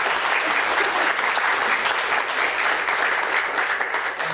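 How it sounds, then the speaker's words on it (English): Lecture audience gives Dr. Charles Knock a loud, sustained round of applause, dense and steady throughout before tapering slightly at the close. "So I think a round of applause for Dr. Knock"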